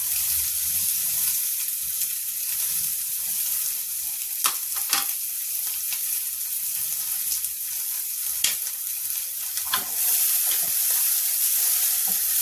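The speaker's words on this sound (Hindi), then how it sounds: "जीरा तड़कने लगा है, इसके बाद हम इसमें डाल देंगे प्याज" Cumin seeds crackling in hot oil for an aloo gobhi curry, a steady bright sizzle with scattered sharp pops and a few utensil clicks, close and continuous, no voices.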